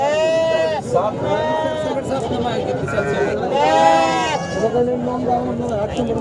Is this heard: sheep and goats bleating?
yes